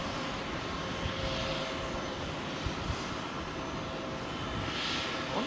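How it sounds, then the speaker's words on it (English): A Boeing 747 engine test on a remote stand at Heathrow produces a continuous, broad jet roar that holds steady at a distance, with no talking over it. "They're testing that 747 engines"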